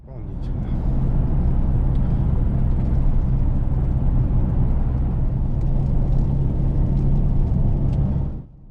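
A car drives along an uneven stretch of road, giving a steady, loud low rumble of tires and engine that holds evenly for several seconds before cutting off.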